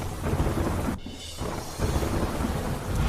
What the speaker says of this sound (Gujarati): વડોદરા એક્સપ્રેસ હાઈવે પર ધોધમાર વરસાદ